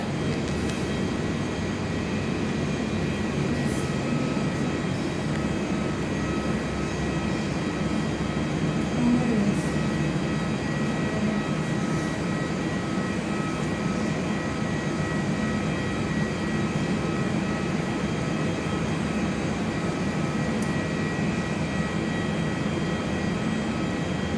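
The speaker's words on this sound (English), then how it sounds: "The arrival is the newest Qantas A321 XLR." A Qantas Airbus A321XLR arrives to land at Perth Airport, its engines a steady broadband roar that holds level throughout, heard from an indoor viewing platform with no voices.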